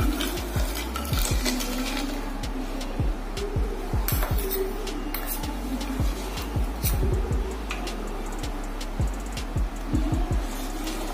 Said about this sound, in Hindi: और उसको हिलाते ही रहना है।